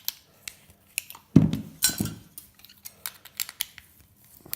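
Cutters snipping wire from an old light fitting, a few sharp metallic clicks and crunches close up, with light handling rattles between cuts.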